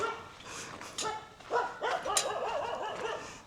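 A puppy near a busy temple gives a few short yips and whimpering barks, fairly close and clear over quiet outdoor ambience.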